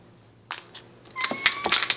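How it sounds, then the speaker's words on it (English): A pet cat meows a few times indoors, short rising calls close to the listener, standing out over a quiet room. "My cat wants to get up and eat"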